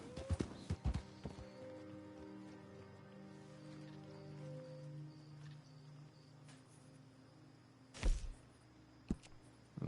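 Horse hooves at a stable in the Red Dead Online video game: a few quiet clops at the start and another burst later, over a soft hum with faint insect chirps.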